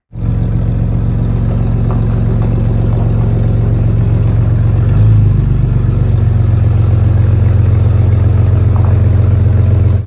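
A Jeep WJ engine idles and rumbles steadily up close while backing in, a low continuous drone with faint clattering throughout.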